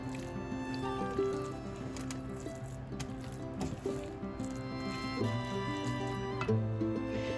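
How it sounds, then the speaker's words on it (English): Cornbread dressing with chicken broth stirred in a pot, giving soft wet squelching and sloshing in an uneven rhythm, close and moderately loud, with faint background tones throughout. "I'm going to go ahead and give this a good stir"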